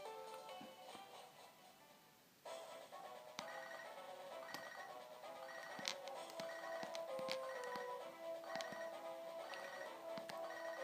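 Phone ringing in the Pokémon Silver video game, a repeated chiptune ring tone over background game music, fairly faint.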